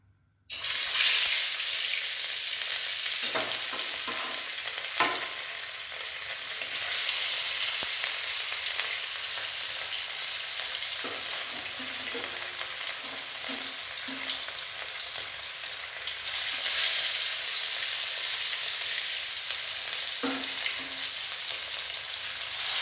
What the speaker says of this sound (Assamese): মাছখিনি ভাজি লওঁ